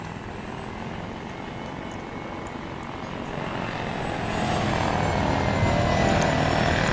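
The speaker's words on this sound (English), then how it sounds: "Apache's now going to make circles around this city for its targets." An Apache helicopter circles a city in the game Arma 3, its rotor and engine a steady droning whir that grows louder and closer partway through, with no talking.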